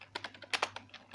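Computer keyboard keys tapped while writing Python code, about a dozen quick, light clicks in an irregular rhythm, close and fairly quiet, with no talking.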